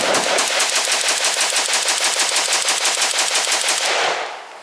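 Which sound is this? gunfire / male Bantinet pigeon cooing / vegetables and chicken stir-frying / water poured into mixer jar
gunfire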